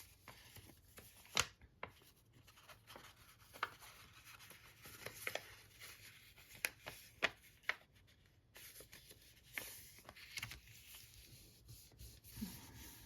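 Paper creased and rubbed by hand while the corners of a small triangular Turkish map fold are inverted, in soft close crinkles and scattered sharp ticks, with no talk.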